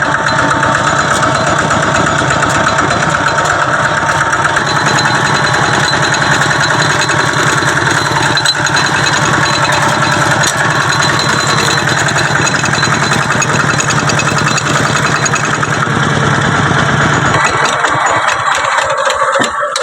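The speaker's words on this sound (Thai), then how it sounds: "ดับเครื่อง" A farm engine idles at close range in a rice field during fertilizing work, running loud and steady with a continuous chugging drone before cutting off abruptly near the end.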